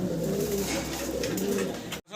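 A pair of black Pomeranian pouter pigeons coos in low, rolling calls close by, repeating steadily for about two seconds before a brief cut.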